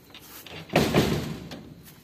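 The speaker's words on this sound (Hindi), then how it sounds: "दरवाजा बंद कर।" A door being closed in a room at home: a single solid thud with a short rattle, heard alone after quiet room tone.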